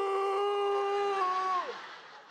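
A person's voice imitates Rambo's scream: one loud, sustained, strained wail held steady for over a second and a half, then breaking downward and fading out.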